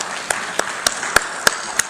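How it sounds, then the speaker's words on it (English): At a formal conference hall event with dignitaries, a few people clap in sparse, evenly spaced single claps, roughly six sharp hand claps over a soft room hum. "Can you have a big round of applause"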